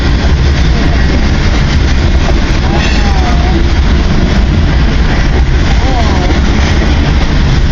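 A long CN freight train rumbles past at close range, making loud, continuous rolling roar and rattle throughout, with occasional faint squeals over the din.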